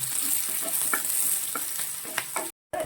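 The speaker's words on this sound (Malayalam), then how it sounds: "നല്ലതുപോലെ വഴറ്റണം പച്ചമുളക് ഇട്ട് കൊടുക്കാം" Green chilies sautéed and stirred in a pan for a sardine curry made with coriander and pepper, giving a steady close sizzle with scattered stirring clicks, briefly cut to silence near the end.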